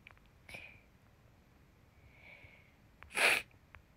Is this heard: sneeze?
yes